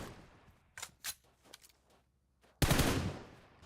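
Gunfire from PUBG Mobile during a global championship esports match: a few quick bursts of shots, then one loud, sustained blast of fire near the end.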